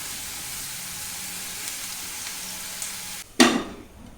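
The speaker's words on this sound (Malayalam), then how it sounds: "ഒരു ലൈറ്റ് ബ്രൗൺ കളർ ആകുന്നവരെ ഇത് വഴറ്റുക" Onions and dried red chilies sauté in hot oil with a steady, close sizzle, then a sudden loud hiss and crackle as more goes into the pan, easing back toward a settled fry.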